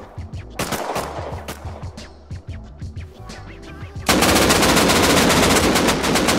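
AK rifle fire in the console version of the game Rust rattles in rapid bursts, then swells into loud, sustained automatic fire that drowns everything else out.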